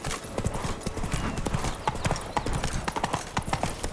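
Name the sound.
horse galloping hooves in The Witcher 3 video game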